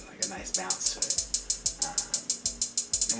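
Hi-hats in a Caribbean-style drum beat tick in a steady, bouncing pattern of bright, crisp hits over a faint low thump, repeating quickly and evenly throughout.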